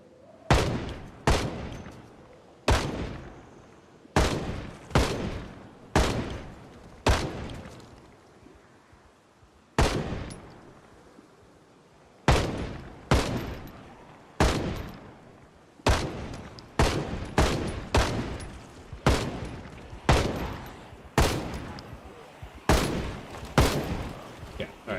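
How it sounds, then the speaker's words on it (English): Repeated gunshots from a firearm in the zombie survival game Project Zomboid, sharp loud cracks firing in irregular bursts and single shots, each with a short decaying tail, spread steadily across the whole stretch. "I'll probably fire the gun off."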